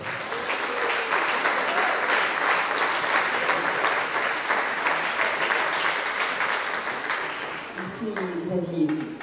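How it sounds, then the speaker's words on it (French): Sustained, dense audience applause fills a hall at an anniversary ceremony as the presiding speaker is welcomed. It stays loud and even for several seconds, then a voice begins speaking over the tail of the clapping near the end. "Je vous demande d'accueillir et d'applaudir"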